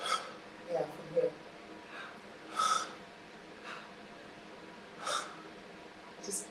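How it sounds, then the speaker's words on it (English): A person does short, forceful breaths driven from the diaphragm, like panting during labor. They come as a series of sharp, separate bursts spread irregularly across the stretch, close and fairly soft, with quiet gaps between them. "it's almost like the panting of a woman when she's in labor"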